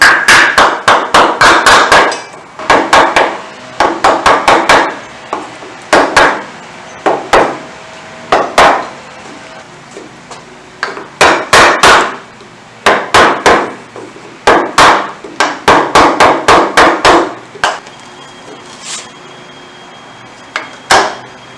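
A hammer strikes a wooden mailbox post in quick clusters of loud, sharp knocks, several blows in each burst with short pauses between, close and clear with no talking.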